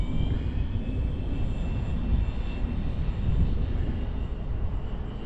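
A radio-controlled plane, a Durafly Goblin or ASW28 glider, makes a low pass on a sunny winter day, its motor whirring with a steady broadband rush at moderate distance.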